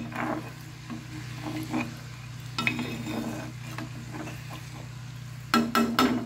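Curry gravy for Bengali white doi katla gently bubbling in a pan, soft sizzling and stirring with light utensil taps over a steady low hum, ending in a few sharper clinks.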